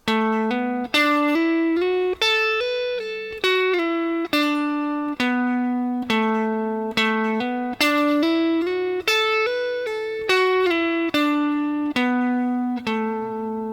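A slow electric guitar line of clean, evenly spaced single notes, each picked distinctly and ringing briefly before the next, in a steady unhurried rhythm.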